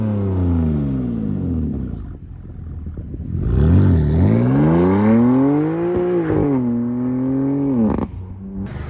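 A BMW F80 M3 engine revs nearby, starting with a low rumble, then sweeping up and down in pitch with loud, throaty surges before dropping back near the end.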